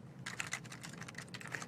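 Fingers type on a computer keyboard in a steady, fast patter of close key clicks with a few louder taps, running alone without any talking.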